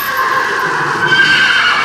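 A horse neighs loudly and close up, a sustained, quavering whinny filling the whole moment with no talk over it.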